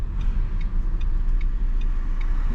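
A Renault Clio 1.3 TCe engine runs at a steady idle with the window slightly open, a low continuous rumble with faint ticking close by.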